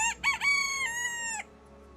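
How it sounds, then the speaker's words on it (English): A chicken lets out a loud, sharp crow-like squawk with a few rapid opening bursts and then one sustained strained cry, heard close and alone. "I just hear that the chicken squawking in my ears"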